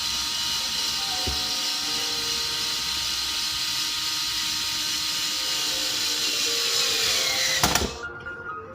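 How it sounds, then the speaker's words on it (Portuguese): A power drill bores a pilot hole in soft pine wood while building a Coimbra Portuguese guitar, a steady high whirring drone that runs throughout, then a sharp knock before the motor stops and winds down. "essas são madeiras macias, isto é pinho, é conveniente a gente fazer um furo primeiro"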